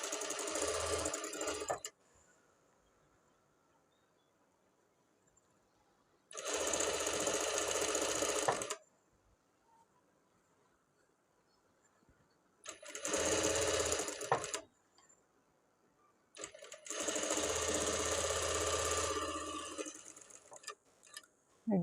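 A sewing machine stitches the edge of a garment lining in four separate bursts of fast mechanical rattling, close and clear, with quiet pauses between runs.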